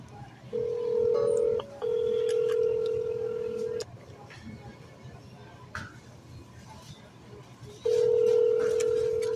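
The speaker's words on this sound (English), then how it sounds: "Let me try it again. Sounds like that's their work phone." A telephone call to a work phone gives a steady ringback tone, sounding in two long beeps, a pause, then another beep starting up, all fairly loud and clear over quiet background.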